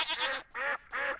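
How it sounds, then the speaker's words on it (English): Three nasal, honking duck quacks from the Project Zulu mod for Minecraft, each loud and close with short gaps between, in an evenly spaced rhythm with no other sound. "it's the same sound that I think PewDiePie's game uses for ducks."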